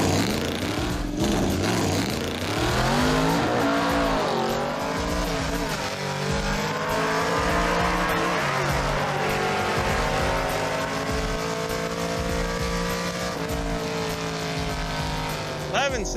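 1970 Dodge Super Bee launching hard off the line at a drag strip, engine bogging then climbing through the gears with rising, shifting tones, loud and close while people talk over it.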